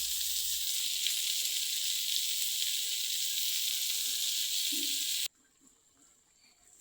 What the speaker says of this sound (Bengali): এখন আম্মু মশলা দিচ্ছে সবজি কষানোর জন্য।